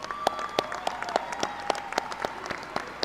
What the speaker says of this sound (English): let's give these fine folks a round of applause